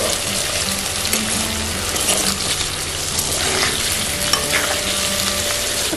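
Paneer cubes frying in a pan while being stirred, a steady close sizzle with a scraping stir rhythm running throughout, no voices.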